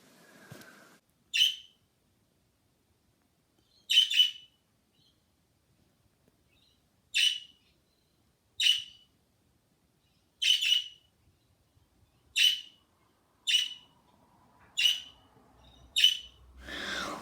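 A pet budgie gives a series of about a dozen sharp, loud squawking chirps, spaced a second or two apart against near silence, close to the microphone.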